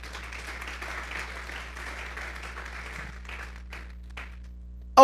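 A church congregation gives the Lord a brief round of applause, a soft, moderately distant clapping that thins out and trails off into scattered claps before a sudden loud burst right at the end.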